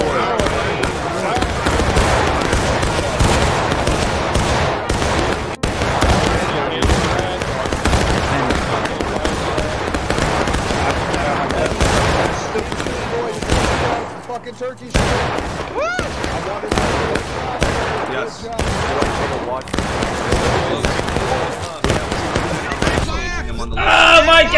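Massed Civil War-era musket fire in War of Rights rolls on continuously as a dense crackle of shots and volleys, loud and close, with shouting voices over the battle din.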